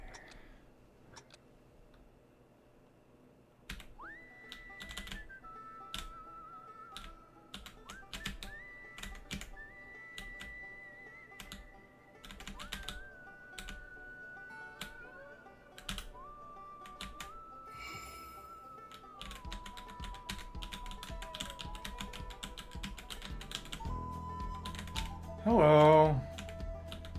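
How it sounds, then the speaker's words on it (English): Keyboard keys tap rapidly in irregular bursts while a rhythm game in Genshin Impact plays melodic tones underneath, the clicks close and crisp, with a brief louder burst of sound near the end. "I'm struggling through the rhythm game on keyboard at the moment."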